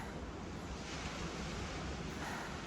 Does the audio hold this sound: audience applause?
no